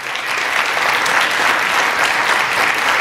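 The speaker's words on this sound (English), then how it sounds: "Let's give them another round of applause." Steady, full audience applause fills a hall at a city tribute event honoring Martin Luther King Jr., a dense even clapping that holds without pause throughout.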